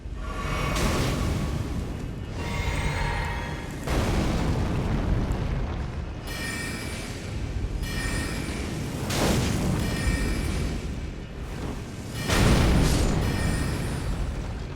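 Fire attacks in Elden Ring: Shadow of the Erdtree set off a series of about six loud, booming explosions every two to three seconds, each a roaring burst that fades into rumble before the next.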